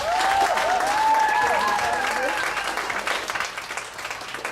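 Loud, steady applause from a crowd at a PechaKucha Night in Ubud, Bali fills the space, with a few cheers and whoops rising above the clapping.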